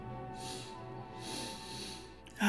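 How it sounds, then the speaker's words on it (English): A person sniffles several times up close, making short breathy nasal bursts over a steady musical drone, with a louder sniff at the end. "Oh, sorry I keep sniffling."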